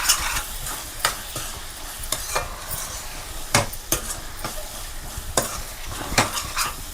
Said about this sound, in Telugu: అడుగంటుకోకుండా ఇలాగా శుభ్రంగా ఒకసారి పైకి అడికి పైకి కలిపేసుకోండి